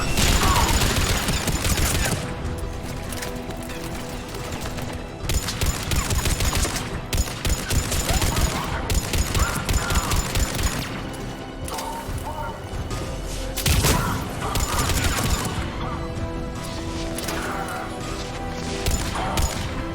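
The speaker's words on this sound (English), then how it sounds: "The checkpoint is under fire!" Sustained gunfire at a checkpoint in the video game Mass Effect 3, with dense bursts of automatic fire and heavy impacts rolling continuously under music and effects throughout.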